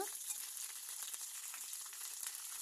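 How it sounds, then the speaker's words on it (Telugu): Mustard seeds, cumin and finely chopped onions fry in hot oil for a quail egg curry, making a steady, fairly faint hiss and crackle that continues evenly without any voices. "ఆ నూనె కాస్త వేడిన తర్వాత కొన్ని ఆవాలు జీలకర్ర వేయాలి తర్వాత సన్నగా తరిగిన ఎర్రగడ్డ ముక్కలు వేయాలి అవి బాగా వేగిన తర్వాత"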